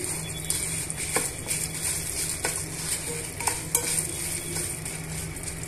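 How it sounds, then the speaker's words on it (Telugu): A utensil scrapes and stirs through dry spices and dried red chillies roasting in a pan, with soft intermittent clinks over a faint, steady sizzle. "స్టవ్ సిమ్లో పెట్టుకొని వేయించుకోవాలి"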